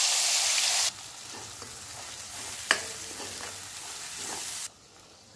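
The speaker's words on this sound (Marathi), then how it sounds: "आता तेलामध्ये हा मसाला परतून घ्यायचा आहे।" A ground spice paste is sautéed in hot oil for bhogichi bhaji, a mixed vegetable dish. Loud sizzling at the start drops to a quieter fry with stirring and a sharp scrape, then the sizzle cuts off.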